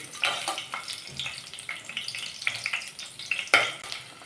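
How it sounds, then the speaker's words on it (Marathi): Whole spices and two chilli pieces sizzling in hot oil in a pan, a close, continuous crackling fry with frequent stirring scrapes and a sharp spoon clack near the end. "खडे मसाले थोड्या वेळ आपण तेलात छान परतून घेऊया"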